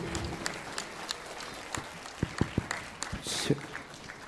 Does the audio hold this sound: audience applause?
yes